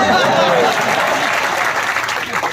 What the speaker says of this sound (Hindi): अध्यक्ष जी ने फिर ताली बजा दी।